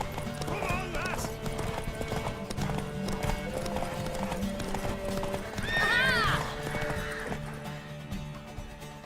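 Horse hooves clip-clop steadily in The Witcher 3 game, with a loud whinny from the mare rising partway through over game music, and voices speaking.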